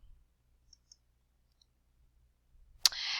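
A single sharp computer mouse click lands near the end of a quiet stretch, after a couple of very faint ticks, and is followed by a soft steady hiss.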